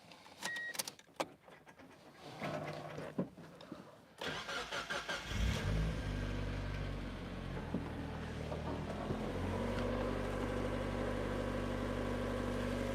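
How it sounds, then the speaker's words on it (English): A turbocharged NB2 Mazda Miata cranks and starts after a few seconds of clicks and rustling, then settles into a steady, close, low idle hum that runs to the end. "That is an idling NB2 Miata."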